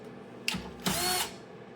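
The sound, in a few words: removing screws from PS5 Pro console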